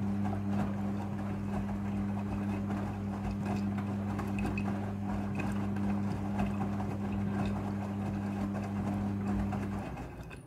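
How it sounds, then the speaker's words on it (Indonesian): A washing machine running its rinse cycle as it fills with water, a steady mechanical hum with a constant low drone and a faint rushing wash, continuous and close until it cuts off near the end. "Pada proses pembilasan dengan air, mesin cuci akan mengatur jumlah kebutuhan air secara otomatis."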